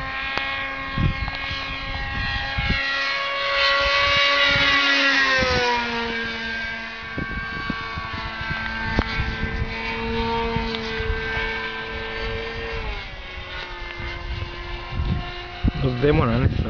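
A Topmodel Baia radio-controlled taildragger plane drones overhead at full throttle, its propeller whine sweeping in pitch as it passes and banks at an airfield, with people talking throughout.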